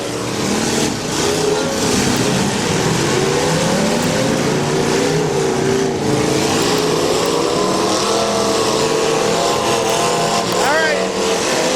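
A demolition derby car at a fireman's festival revs loudly and continuously, its engine rising and falling while other motors drone around it and an announcer talks over the noise.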